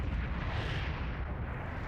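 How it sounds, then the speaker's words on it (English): In the PS2 video game Drakengard, fireballs set off a massive explosion: a deep, sustained roaring rumble that fills the whole stretch, loud and unbroken. "A nuclear explosion just hit him."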